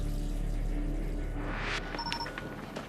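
Running water plays as a sound effect, a steady wash of rushing flow that swells to a brief louder surge midway, fairly faint and mixed with soft tonal music.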